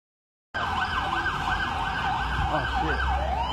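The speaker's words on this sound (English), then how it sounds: "It's another siren, see." Emergency vehicle siren wailing in a steady rising-and-falling cycle, loud and continuous after a brief silence, with traffic rumble underneath.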